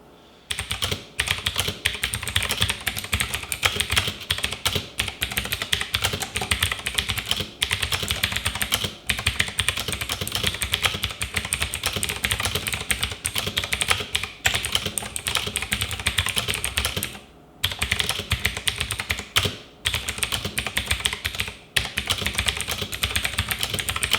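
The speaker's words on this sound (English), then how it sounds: "Let's hear the sound of the switches, the Outemu Blue switches." Rapid clicky typing on a Marvo KG934 mechanical keyboard with Outemu Blue switches, a dense stream of sharp tactile clacks with a few brief pauses, close and crisp.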